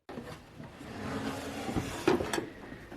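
A household drawer slides and knocks as it is handled, producing soft wooden rumbling and a sharper clunk near the end, close and fairly quiet in a room.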